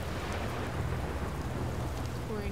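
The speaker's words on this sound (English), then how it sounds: "Why is it raining from inside of the ground here?" Rain in the Outer Wilds video game hisses steadily, a dense, even patter with a low rumbling undertone, continuous and fairly loud with no talking.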